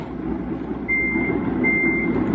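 A truck in the video game GTA V idles with a low rumble while its reversing alarm sounds a steady series of high, evenly spaced beeps, moderately loud and without talk.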